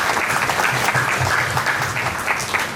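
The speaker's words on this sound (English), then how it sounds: "a big applause for all these co-donors" A crowd at an annual general body meeting claps steadily and loudly throughout, dense applause with no pauses.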